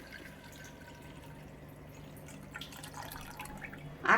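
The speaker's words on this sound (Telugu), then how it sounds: "ఇప్పుడు సెంబుడు నీళ్ళు పోసాను" A pot of water is poured into a vessel for heating, a quiet, steady flowing trickle that swells slightly near the end. No one speaks.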